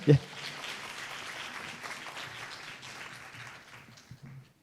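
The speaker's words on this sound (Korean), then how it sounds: "다시 한번 큰 박수 부탁드리겠습니다" Audience applause in a hall at an international labor law symposium, a steady wash of clapping that holds for several seconds after a brief sharp onset and slowly thins toward the end.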